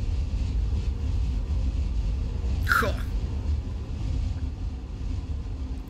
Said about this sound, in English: Opening the canopy here. Letting the engine sounds. Oh, the wind as well.